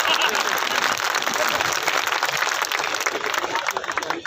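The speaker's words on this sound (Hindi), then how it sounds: "मुंह दिखाई की तालियां थोड़ी ज्यादा होनी चाहिए" Loud, dense audience applause fills a Hindi comic poetry gathering in Bilaspur as a poet from Rajasthan is welcomed, steady clapping throughout with crowd noise and a voice faintly under it.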